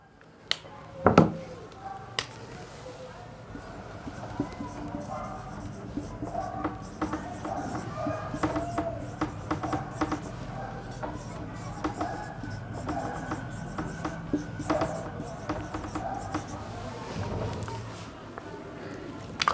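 Pen or marker scratches across a writing surface as notes are written out during an anthropology revision lecture, a long run of continuous strokes and taps, close, with speech faintly present at times.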